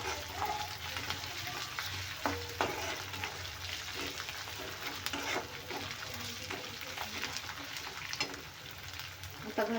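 Ingredients are sautéed in a pan to cook off their raw smell. A soft continuous sizzle runs under intermittent scraping and stirring taps at an uneven rhythm, with no talking.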